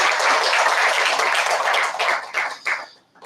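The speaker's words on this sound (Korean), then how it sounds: "격려의 박수를 부탁드리겠습니다" Congregation applause of encouragement in a church service, a dense wash of many hands clapping that holds steady and loud, then thins into scattered claps and fades out at the end.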